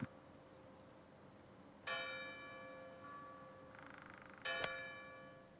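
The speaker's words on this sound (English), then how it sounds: "What's that bloody bell doing?" Bell on the Tobacco Road golf course rings two clear, resonant strikes a few seconds apart, each leaving a long ringing decay, heard from a distance in a quiet outdoor setting.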